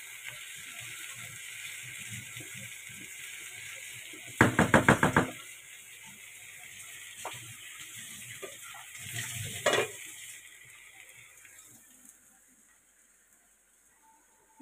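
Food frying on high heat in a home kitchen pan gives a steady sizzle throughout, with a burst of sharp knocks and scraping from utensils near the middle and another clatter shortly after, fading quieter toward the end.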